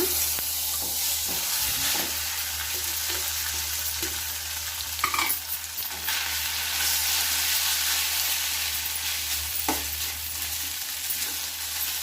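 Shavige vermicelli fries in oil in a pan for upma, giving a steady close sizzle with soft stirring scrapes throughout and no talking.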